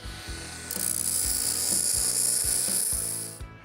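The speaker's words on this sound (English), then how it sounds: "We'll use our belt sander." A belt sander grinds steel off a connecting rod from a Ford 300 4.9L inline-six to balance its weight: a steady, loud abrasive hiss over a low rhythmic rumble of repeated strokes, fading out near the end.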